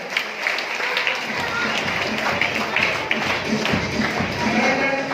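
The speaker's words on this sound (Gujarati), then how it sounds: "એકવાર જોરદાર તાળીઓ થઈ જાય" A crowd at a school prize distribution for a children's drawing competition breaks into loud, sustained clapping that starts after a moment and carries on as a dense roar of applause.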